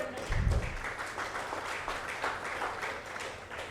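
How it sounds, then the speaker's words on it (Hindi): Audience applause at an awards ceremony, a steady mid-distance patter of many hands clapping that carries on for a few seconds with no speech over it. "तालियां।"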